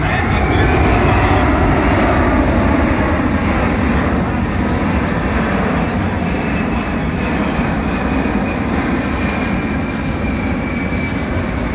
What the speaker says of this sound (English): Now as they get past, the throttles will come forward, the landing gear will come up.